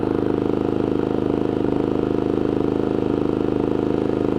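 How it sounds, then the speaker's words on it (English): A Westinghouse iGen4200 hybrid inverter generator runs outdoors under the load of an RV air-conditioning compressor, giving a loud, steady, close engine drone with a fast pulsing rumble and no speech. "with the generator outside with the compressor running"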